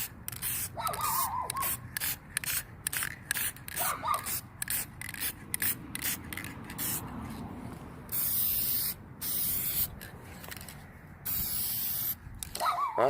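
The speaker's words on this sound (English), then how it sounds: "take my clear coat spray right here" Repeated bursts of aerosol clear coat spraying onto wood, short hissing blasts separated by brief pauses, fairly close and loud, with faint handling noises in between.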